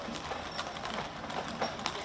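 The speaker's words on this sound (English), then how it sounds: "Watch out for the horses, guys." Horses' hooves clip-clop on the street during the Newark St. Patrick's Day Parade in 2022, a steady run of hoof strikes mixed into loud, busy crowd noise.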